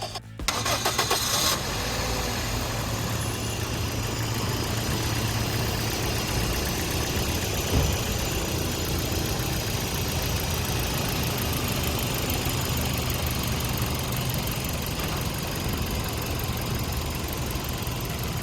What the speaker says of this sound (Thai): เดี๋ยวเราลองไปฟังเสียงเครื่องกันดีกว่าค่ะ